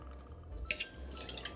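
Two ounces of vodka poured into a 16-ounce Mule glass: a faint, brief trickle and splash with light glassy drips, close and quiet, with no talk.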